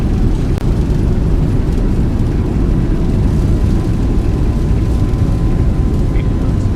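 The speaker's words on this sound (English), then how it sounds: "We can engage our reverse thrust." Reverse thrust roars from a Zibo Boeing 737-800 rolling out after landing in X-Plane 11, a loud, steady, broadband engine rumble that holds unbroken from start to finish.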